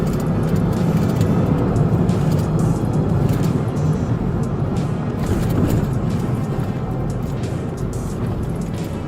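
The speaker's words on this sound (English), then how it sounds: "Vehicle is speeding up rapidly." Engine roar and road noise from inside a police car chasing a fleeing Pontiac, a loud continuous rumble with wind rush holding steady throughout.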